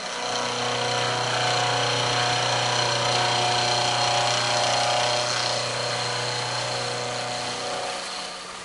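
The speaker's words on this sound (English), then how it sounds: "Turn the milling machine on. Run the cutter through the part." A milling machine cutter running through a metal part on a direct indexing setup, giving a steady, loud, continuous mechanical whine and hum with a faint tonal drone throughout, close by and without speech.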